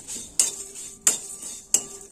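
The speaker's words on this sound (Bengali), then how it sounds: "জিরে আর লঙ্কাটা ভালো করে ভেজে নেব।" A metal spatula knocks against a dry pan while cumin and dried chillies roast, giving three bright, evenly spaced clinks with a faint scraping between them. Nobody speaks.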